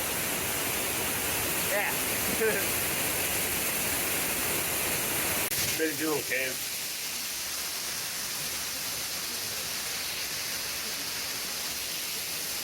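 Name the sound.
waterfall in Hawaii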